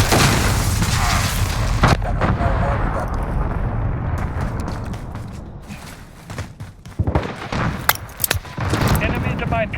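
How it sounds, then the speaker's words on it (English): Cruise missile strike in Call of Duty Modern Warfare, heavy booming blasts and rumbling impacts with scattered gunfire cracks, loud and dense, while a voice speaks game callouts over the top. "Allied cruise missile."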